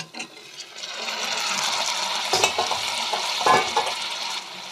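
Dried fish frying in a pan for a curry, a steady close sizzle with bursts of stirring and scraping partway through, no voices.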